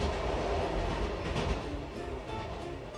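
A train runs on rails, the kind of service between Paris Gare du Nord and L'Isle-Adam. It makes a steady, loud rumble with a dense rolling clatter throughout and no speech.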